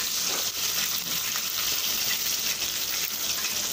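Chicken pieces frying in hot oil on a rainy day give a steady, dense sizzle with faint stirring, close and constant throughout.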